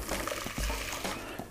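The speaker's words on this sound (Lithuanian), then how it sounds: "ir šį mišinį grąžiname į puodą" Egg mixture for a rice dessert is poured back into a pot, a soft continuous liquid pour with faint dribbling, close and fairly quiet, lasting under two seconds with no voices.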